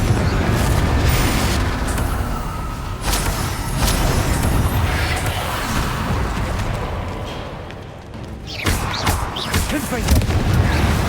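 Confringo blasting spells firing in the Hogwarts Legacy video game, a dense, loud barrage of overlapping booms and explosive bursts with constant rumbling, briefly dipping before more blasts erupt.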